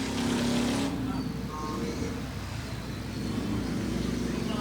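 Road traffic passing by outside an imam bargah, a steady loud rush of engine and tyre noise that swells and fades slightly, with a faint voice underneath.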